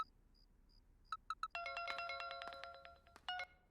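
Mobile phone ringtone in a Hindi dubbed movie: a few short electronic beeps, then a loud sustained chiming melody with a bright, layered tone that rings close and clear, with no talking over it.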